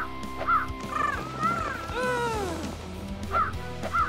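Crows caw repeatedly over a pumpkin patch in a Halloween cartoon, loud harsh calls coming in short bursts over background music.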